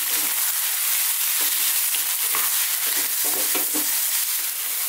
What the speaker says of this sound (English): Let's just give this a little fry around.